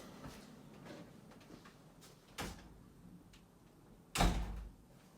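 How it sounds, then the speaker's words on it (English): An indoor door shuts during a cold spell, first with a dull knock and then with a louder thud near the end, over a low room hum. "Close the door, please, quickly."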